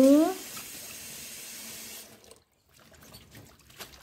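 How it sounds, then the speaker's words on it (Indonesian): Tap water runs and splashes as raw vegetables are rinsed in a sink for Indonesian gado-gado, steady at first and then fading into quieter dribbles and handling noises. "Nah, tuh proses pencucian. Nah, ini dicuci ya teman-teman."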